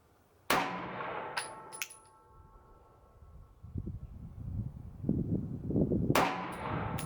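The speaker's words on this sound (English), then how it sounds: "Had a pretty good shot there." Sig Sauer P365 pistol fired at a range: a loud, sharp report near the start, two smaller cracks soon after, then a low rumbling stretch before a second loud shot, with no talking.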